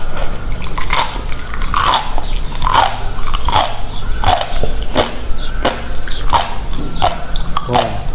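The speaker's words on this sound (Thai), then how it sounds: "จากนั้นกินเข้าไปเลยครับ ผมฟังเสียงกรุบกรอบนะครับ" Homemade fried spring rolls crunched close to the mouth, a series of crisp, regular bites and chewing at roughly one-second intervals, loud and near, with room noise underneath.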